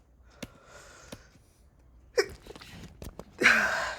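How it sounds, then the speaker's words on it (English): A person sneezes in quick succession, a couple of small breathy build-ups followed by a louder, sharp sneeze burst at the end, close to the microphone. "Sorry guys, I'm having a sneezing attack."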